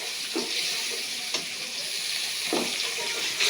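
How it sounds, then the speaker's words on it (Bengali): Fish fries in a pan of oil beside a pot of curry cooking with dried fish, eggplant and potato, giving a steady close hiss with a few soft clatters and no talk. "আর ওই পাশে মাছ ভাজা হচ্ছে।"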